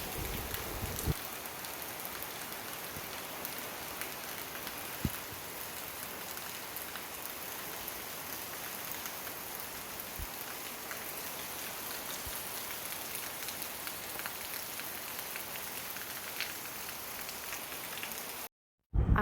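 An afternoon of continuous rain keeps up a dense, even patter of drops on surfaces for the whole stretch, with a few sharper drips standing out and no one speaking.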